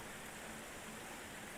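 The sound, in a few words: rain ambience sound effect, louder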